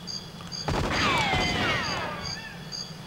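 Gunfire from the Nintendo 64 game GoldenEye 007, Jungle level, as Natalia shoots at soldiers: a burst of sharp crackling shots over game music and chirping jungle ambience, with whistling sweeps overlapping the shots.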